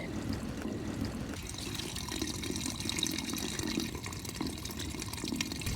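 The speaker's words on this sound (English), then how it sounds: "There is a lot of water coming from the neighbor," Water runs and splashes continuously nearby in a flooded backyard, a steady trickling flow with no voices over it.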